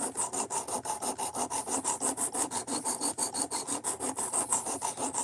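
A knife edge is stroked steadily against a sharpening stone to raise a burr, giving about two dozen even, rhythmic rasping passes at roughly four per second, close and moderately loud with no voices.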